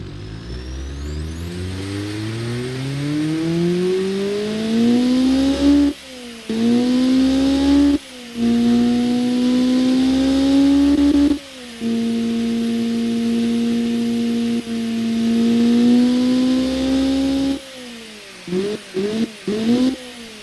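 A tuned, turbocharged Honda D16V1 engine making 221 horsepower starts and revs, loud and close. Long climbing pulls hold at high rpm, broken by sharp drops, and a burst of quick throttle blips comes at the end.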